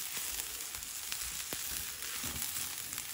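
Amaranth leaves fry with peanut powder in a pan, giving a steady close sizzle with a few faint scrapes and taps from stirring, no talking.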